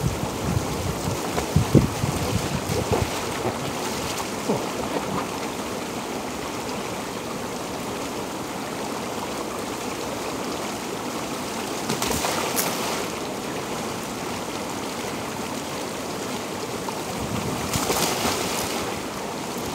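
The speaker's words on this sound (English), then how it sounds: "There's a lot of water. Look at the ocean." Water along an ocean shore on a cool day, a steady broad wash of waves and flowing water that holds at an even level, with brief swells of louder surf and wind gusts now and then.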